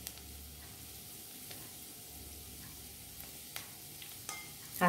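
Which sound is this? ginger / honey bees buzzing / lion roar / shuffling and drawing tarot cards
ginger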